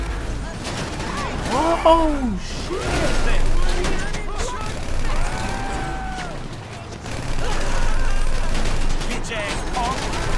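Gunfire in GTA V, loud shots and rapid bursts cracking close by amid mechanical game noise, with excited voices talking and shouting over the shooting.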